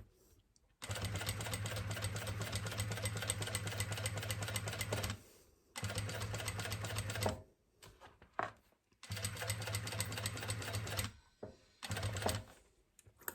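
A double-feed sewing machine running through fabric in three long bursts of fast, even stitching hum, separated by short pauses with small clicks and handling noises, close and without talk.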